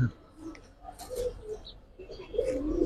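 Giribaz pigeons cooing softly in low murmurs, with someone talking over them and some faint chirps in the background.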